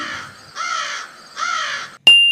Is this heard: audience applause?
no